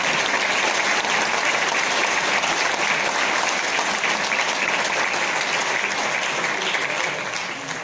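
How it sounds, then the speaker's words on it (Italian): Sustained, loud applause from a large concert audience greeting an orchestra, steady dense clapping that fades slightly at the end. "un'entrata trionfale accolta da un applauso anche medio alto"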